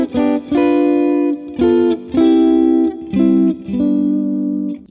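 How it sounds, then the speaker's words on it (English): An electric guitar plays chord melody with a full chord struck on every melody note, sounding as a series of loud, sustained, effect-coloured strummed chords in a steady phrase, with no voice. "let's say a decision I'll make is I'm going to play a chord for every melody note."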